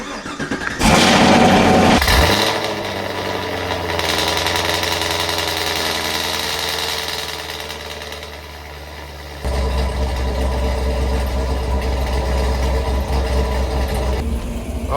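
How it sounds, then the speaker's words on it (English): A Camaro fitted with aftermarket heads and cam cold-starts with a cranking burst, then settles into a loud, lumpy, choppy idle that shifts to a deeper rumble partway through, close by. "I'm gonna start up my car so you guys can hear how that cold start sounds"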